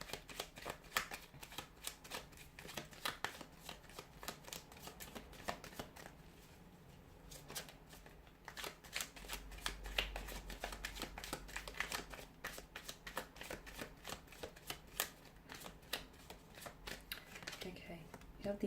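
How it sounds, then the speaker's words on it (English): Tarot cards are shuffled close up in a steady run of rapid papery riffles and flicks lasting many seconds, with a voice talking over part of it. "give the cards a shuffle"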